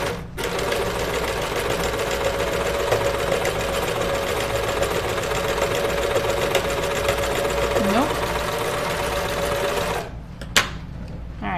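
A sewing machine hums steadily for about ten seconds while stitching a Moneta knit dress, loud and close with a faint voice underneath, then halts and gives a few short mechanical clicks.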